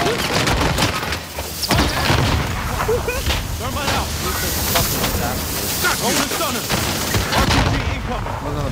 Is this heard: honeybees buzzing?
no